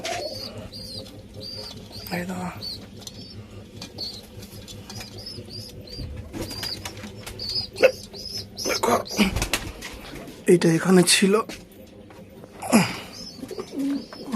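Pigeons coo softly and repeatedly at close range while their 15-day-old chicks are handled, with bursts of wing flapping and rustling and a brief spoken remark.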